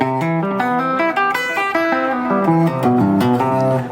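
An electric guitar runs fast major seventh arpeggios up and down, notes flowing smoothly in quick sweeping and legato patterns, loud and close.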